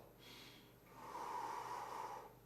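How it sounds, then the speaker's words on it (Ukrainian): A slow breath out through the mouth during an evening stretching workout, a soft, steady airy exhale lasting about two seconds after a brief inhale, close and quiet with no talking. "І 2-3 секунди видих через рот."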